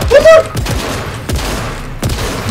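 Rapid bursts of shotgun and automatic gunfire in the video game Fortnite ring out loud and close, several sharp cracks in quick succession with a brief tonal sweep early on, over agitated players' chatter.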